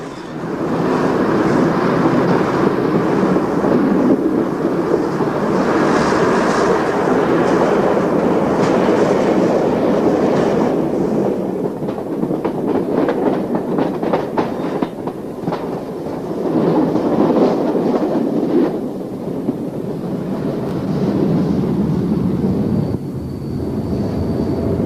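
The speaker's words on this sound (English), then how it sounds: "we pull through the 260-yard long Falsgrave Tunnel and into Lonsborough Road platform, before reversing into Scarborough Central Station" A train reverses into Scarborough Central Station after passing the 260-yard Falsgrave Tunnel and Lonsborough Road platform, giving a loud, steady rumble with rail clatter and squeals throughout, with no voices.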